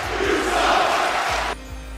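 A wrestling crowd at an MNW show roars and cheers in a loud, sustained wash of voices that drops off abruptly near the end, leaving a lower murmur.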